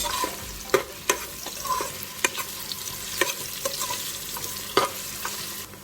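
Garlic and ginger sizzle steadily in a hot pan, with sharp scraping knocks from a spoon stirring every second or so; no talking.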